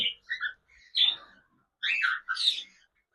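Cockatiels in a home aviary give several shrill chirps and calls in separate bursts, some with rising whistled notes, close by and with no talking over them.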